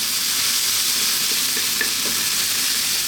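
A potato and cilantro mixture fries in a pan over above-medium heat while it is stirred. The sizzle is steady, close and crackling, with a few faint scraping stirs underneath.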